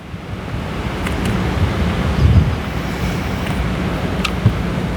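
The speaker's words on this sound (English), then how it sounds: "it's a river running through here, guys" Floodwater rushes through a yard after Hurricane Helene, a steady, close, broadband roar with wind buffeting the microphone and no voices.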